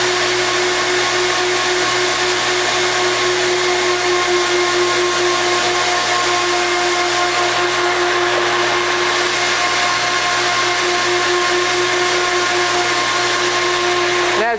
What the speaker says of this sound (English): it's just eating it up, that whole pile, not moving the wand around at all, letting everything free flow into the hose